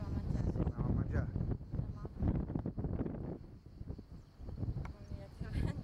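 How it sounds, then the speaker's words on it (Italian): Strong wind gusting over the microphone at an outdoor holiday spot, producing continuous loud low buffeting throughout, with people talking over it. "Mamma mia, che vento."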